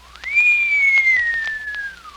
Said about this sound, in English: whistle in amazement